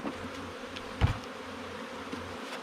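Bees buzzing at a queenless hive fitted with an entrance block, a faint continuous hum with a brief louder thump near the middle.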